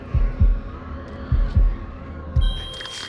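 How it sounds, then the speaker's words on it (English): A heavy heartbeat pounds in House of Ashes, loud paired low thumps repeating in a steady lub-dub rhythm over a dark droning hum, with faint tones creeping in at the end. "I hate the heartbeat one"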